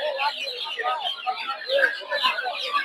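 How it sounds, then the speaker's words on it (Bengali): Turkey chicks at a busy rural poultry market peep and chirp continuously in many overlapping high, thin calls, close by, with a voice talking over them. "টার্কি মুরগির বাচ্চা দেখতে পাচ্ছেন"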